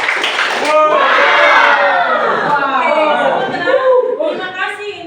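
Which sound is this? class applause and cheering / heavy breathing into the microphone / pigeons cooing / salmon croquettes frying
class applause and cheering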